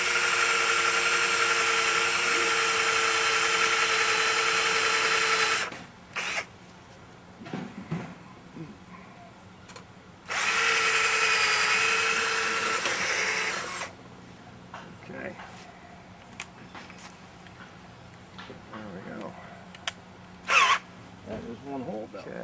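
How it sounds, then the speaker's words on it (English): A power drill whines steadily in two long bursts while drilling a hole for a post lamp fixture replacement, stopping between them, with faint handling noises and a brief voice in the quieter gaps. "We may have to kind of just go to the next size drill bit."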